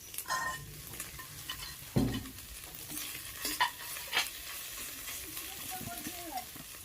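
Masala paste is stirred in a frying wok, with a low sizzle under repeated scraping strokes and a few sharper knocks of the spoon against the metal, close up and with no talking.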